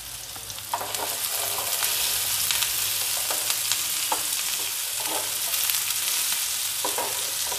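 Onions fry in a pan over medium gas until golden brown, a steady loud sizzle with occasional clicks of stirring, no voices.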